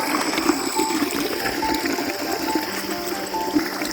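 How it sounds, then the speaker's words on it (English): Hot spring water from a desert hot spring runs steadily over rocks, a constant close trickling and splashing wash with no voices. "Hot water running through and around."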